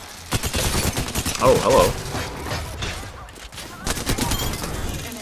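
Rapid video-game gunfire bursts in a close-quarters firefight, loud bursts of shots with a brief lull midway, under and between a player's speech.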